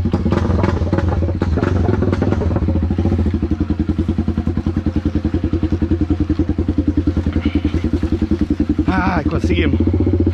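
A Honda CB motorcycle labors down a rough, steep trail, its engine thumping in a steady close rhythm with clattering and knocks from the bike over the terrain, while a rider talks over it.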